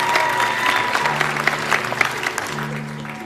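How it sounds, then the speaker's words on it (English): Applause from a studio audience at a children's ranch-themed show, brisk and fairly close, with sustained low tones running underneath and a voice briefly audible over the clapping. "let's give them a round of applause"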